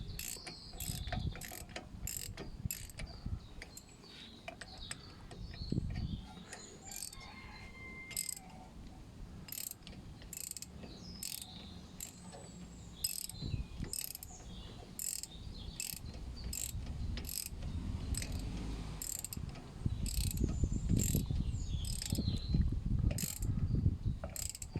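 A hand ratchet tightening brake caliper bolts during a car brake caliper, disc and pad job, heard as a steady run of crisp close clicks with a low mechanical background and no talking.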